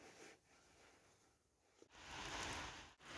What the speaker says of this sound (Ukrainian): Почав йти дощ.